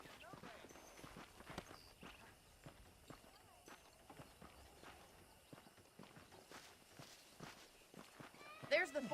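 Saddled horses in the Red Dead Redemption video game walk with a steady clip-clop of hooves on a ranch. The footfalls are faint and rhythmic over quiet ambience, and a louder thump and rustle come near the end.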